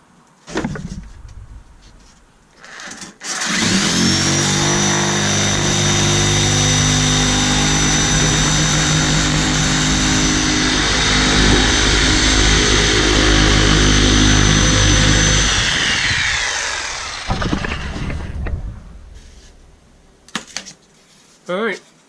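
Loud, continuous power saw on full orbital setting slicing through foam insulation board, a sustained buzzing roar of about twelve seconds that starts abruptly and cuts off, with quieter handling noise before and after.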